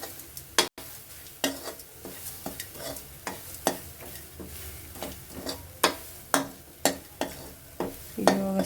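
Ivy gourd is stir-fried with mustard seeds, turmeric and salt in a pan. A spatula scrapes and knocks against the pan in a steady rhythm, about once a second, over a constant low sizzle, with no voices.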